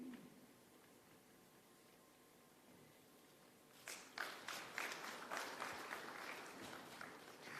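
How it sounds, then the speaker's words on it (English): Applause bursts out at a manufacturing cluster vision ceremony, a crowd clapping steadily and fairly loud for several seconds after a quieter stretch of room tone. "Ladies and gentlemen, a big round of applause."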